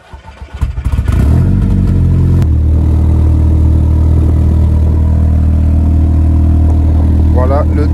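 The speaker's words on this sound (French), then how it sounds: "On va faire un petit démarrage." An Audi car engine cranks briefly, catches and settles into a loud, close, steady idle with a low rumble; the car has an unusual noise.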